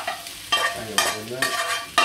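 Egg fried rice being stirred in a frying pan at home, with four loud, evenly spaced bursts of scraping and sizzling alone, about half a second apart.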